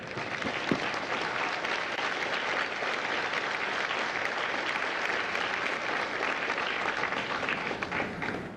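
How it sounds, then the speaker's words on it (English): A large audience at a Marine Corps Recruit Depot San Diego graduation ceremony applauds with sustained, dense clapping that holds steady across the whole stretch. "Ladies and gentlemen, a round of applause for our recruiters and combat instructors."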